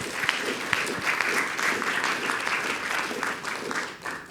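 A symposium audience on the decentralised digital economy claps for a presenting team, a dense, even round of applause from a roomful of people at moderate volume, steady throughout.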